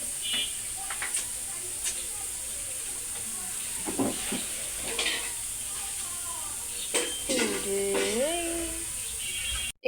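Spice paste and potatoes sauté in a pan with a continuous hissing sizzle, broken by occasional stirring scrapes and a few brief tonal sounds near the end.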